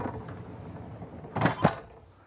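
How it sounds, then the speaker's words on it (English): A solid wood privacy door in the bedroom of a Newmar Super Star 4059 motorhome slides briefly, then shuts with two close, sharp knocks in quick succession. "first let me close this. We've got a nice solid wood door as a privacy door."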